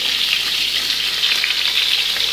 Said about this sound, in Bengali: মাছের মাথাটা বসিয়ে দিয়েছি ভাজা